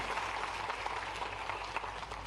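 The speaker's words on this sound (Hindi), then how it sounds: "बहुत अच्छा, ताली बजा दो कि ये बात ध्यान में आ गई।" An audience at a cooperative youth dialogue event in Bhopal applauds with a dense, steady wash of clapping from many hands, somewhat distant and even throughout.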